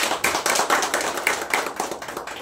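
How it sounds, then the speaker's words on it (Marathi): An indoor crowd at a political party joining ceremony at a public relations office claps in a dense, continuous burst of applause, close and fairly loud, with no talking. "सर्वांनी टाळ्या वाजवा"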